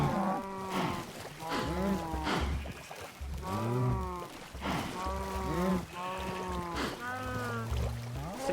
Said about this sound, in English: The baby cows are pushing the adult cow out of the way here.